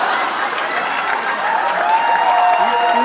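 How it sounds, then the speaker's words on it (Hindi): Sustained audience applause at a live stand-up comedy roast, dense steady clapping throughout with a murmur of crowd voices beneath, no speech over it. "मैंने देख लिया है, सिर्फ ताली है।"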